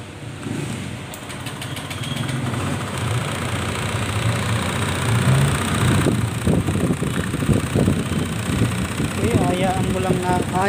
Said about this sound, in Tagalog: Haya lang muna natin siyang naka-idle para mag-ikot-ikot yung langis habang malamig pa yung makina.